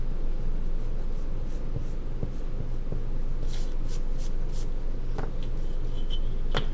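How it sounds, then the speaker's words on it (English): A pencil eraser rubbing over paper to remove a stray drawn line, a steady close scrubbing texture with a few faint taps, set against constant background hiss. "Erase the extra line and I'm done."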